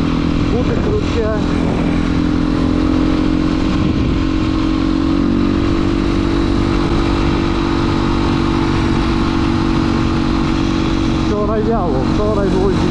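Beta 350cc supermoto motorcycle engine running steadily for the whole stretch, a loud, close, continuous drone with a voice talking over it at times.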